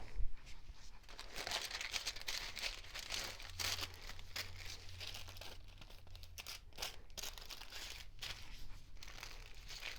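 Aluminium foil being folded for hair highlights in a salon, close crinkling and crumpling in irregular bursts, steady and fairly quiet throughout, with no talk.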